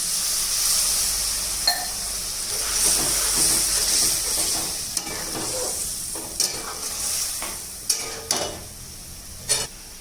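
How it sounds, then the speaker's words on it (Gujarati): Green chickpeas frying in a pan while water goes in, giving a steady bright sizzle and hiss with a few sharp clinks and scrapes of a spoon against the pan. "ચણાને સીજવા તેમાં પાણી એડ કરીશું."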